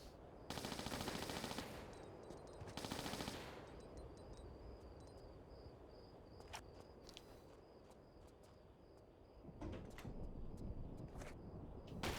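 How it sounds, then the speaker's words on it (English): Uzi fire from Lara Croft's twin submachine guns in Tomb Raider: The Last Revelation, two short rattling bursts near the start, followed by game ambience with faint clicks and scattered thuds. "Why don't we try some of our Uzis?"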